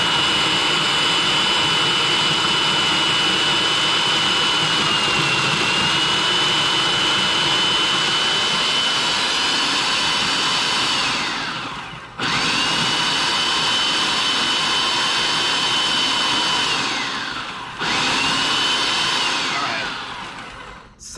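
Ice cream machine pulsing cherry chocolate ice cream, a loud, steady high-pitched motor whine that runs continuously, cutting out briefly twice near the end before resuming.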